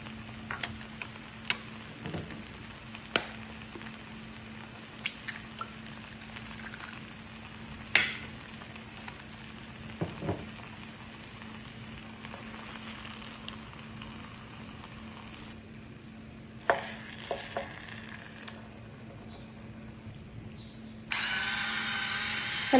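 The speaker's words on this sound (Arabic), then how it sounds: "هلا بدي اضيف البيض" Eggs are stirred into potatoes frying in a pan for potato shakshuka, with a faint low sizzle broken by sharp intermittent clicks and scrapes of a utensil against the pan.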